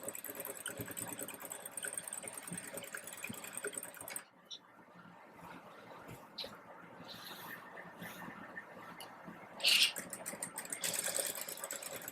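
A sewing machine stitches a sleeveless dress, running in a fast, steady mechanical whir for about four seconds. Quieter pauses and brief clicks of handling the fabric follow, and the motor then starts up again near the end, close and fairly quiet.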